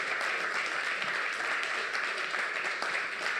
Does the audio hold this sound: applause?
yes